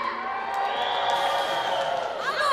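A dance show audience cheers and whoops continuously as a steady crowd roar, fairly distant and without breaks.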